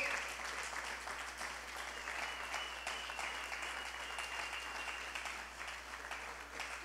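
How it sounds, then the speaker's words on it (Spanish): A church congregation gives steady, continuous applause during a sermon, the clapping dense and even but fairly quiet. "Fuerte, fuerte el aplauso."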